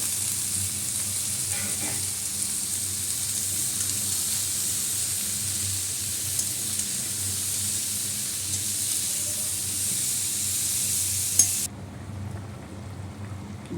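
Chopped cauliflower, potato, carrot and capsicum sizzle in a pan, a steady, fairly quiet frying hiss running throughout with faint stirring, and no talking.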